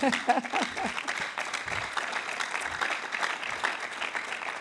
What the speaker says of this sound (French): Je crois qu'on peut applaudir pour l'Église catholique.